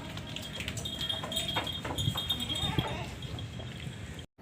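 A Gulabi Rajanpuri goat at a livestock market, calling in a few wavering bleats over busy outdoor background noise and some nearby voices, ending in a sudden cut.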